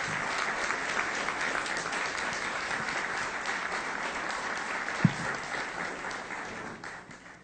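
At a formal award ceremony for the Grand Cross of the Ibero-American Order of Justice, an audience applauds the president in a steady, moderately loud wash, with one sharp knock midway and the clapping tapering at the end.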